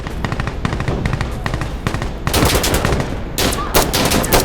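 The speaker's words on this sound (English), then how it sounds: "Yes, firing mortars now." Rapid bursts of automatic gunfire in the video game Insurgency Sandstorm, with mortar fire in the firefight, loud and dense, with heavier blasts later.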